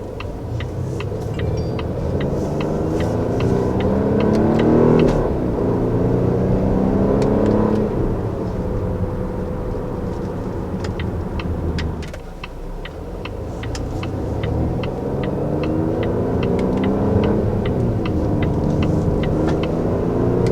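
A 2020 Volvo XC60 R-Design accelerates hard as paddle-shifted gears climb, its engine note rising and then dropping at each shift over steady road and wind rumble, heard from inside the cabin.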